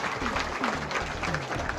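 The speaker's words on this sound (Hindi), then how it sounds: "लुदर्शन कश्यप जी के लिए जोरदार ताली बजाएंगे" Crowd at a teachers' protest rally applauds as Dr. Ludarshan Kashyap is invited to speak, a short burst of loud clapping with a voice briefly audible underneath.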